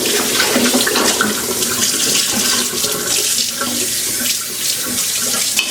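Hot water pours steadily from a tap into a kitchen sink, a continuous loud splashing rush with no let-up, heard up close as jars are readied for a canner.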